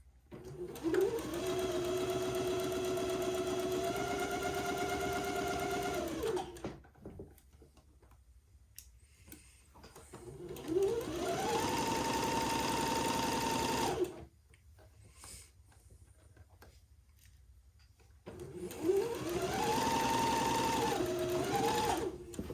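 A sewing machine stitches a plaid seam in red thread in three long runs of steady whirring motor drone, each lasting several seconds, with short quiet pauses between them.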